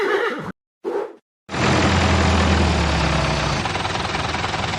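Horse neighing in a children's farm-animal cartoon, a loud sustained whinny that fills most of the clip after two short bursts at the start, with a low rumbling undertone beneath it.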